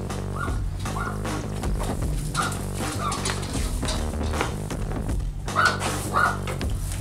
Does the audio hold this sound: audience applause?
no